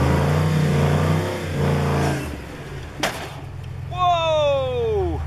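A Jeep Comanche squeezes between boulders on a Moab off-road trail, its engine droning low and then surging into a rising rev near the end, with voices and rough knocks around it.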